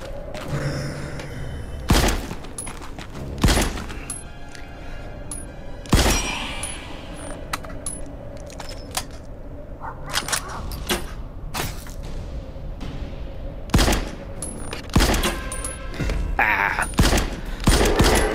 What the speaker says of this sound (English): Much slower firing than I anticipated.